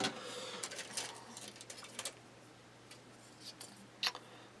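Hobby scissors or a knife cutting parts for a kitbashed model grain elevator: a few soft, close snips and ticks, faint and sparse, with a sharper click near the end and no talking.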